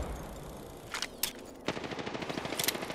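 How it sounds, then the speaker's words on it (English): Rapid gunfire from the Apex Legends battle royale game, short bursts early then a sustained stream of shots from about the middle onward, moderately loud with a crackling repeated rhythm and no talk. "Why are they fucking popping at me when I'm not even firing back?"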